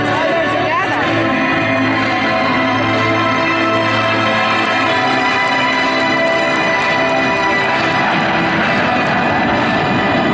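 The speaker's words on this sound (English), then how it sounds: "Solo pilots are making their approach to the flight line." Blue Angels jet aircraft pass over the flight line at Naval Air Station Joint Reserve Base New Orleans, Belle Chasse, a loud, sustained, roaring engine drone that stays strong and close for the whole stretch.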